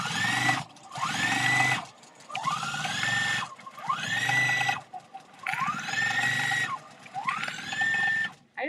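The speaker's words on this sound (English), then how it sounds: "and then sew all the way around. Stopping about a 1/4 inch away from the corner." Sewing machine stitching around the edge of a quilted pillow, running in six steady bursts of about a second each with short pauses between them, close and clear with no voices.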